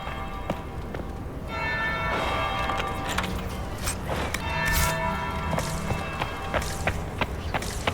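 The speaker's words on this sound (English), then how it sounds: "That would be the second bell." A church bell rings in the fantasy video game Dragon Age Inquisition, with repeated metallic tolls ringing out over a steady murmur of ambient noise and scattered footsteps, and no talking.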